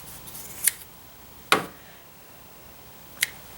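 Scissors snip through weaving warp threads on a Little Weaver loom: three crisp, close cuts, spaced irregularly over a quiet background.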